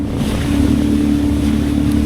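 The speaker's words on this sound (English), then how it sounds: "these waves have become so brutal" Boat engine droning steadily under the crash of rough ocean waves and wind buffeting the microphone, loud and continuous, on a crossing to Two Harbors.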